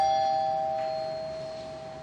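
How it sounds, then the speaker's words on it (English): A doorbell in a rental home in Hobe Sound sounds a single steady electronic tone that slowly fades over a couple of seconds, alone in a quiet room. "a doorbell that works"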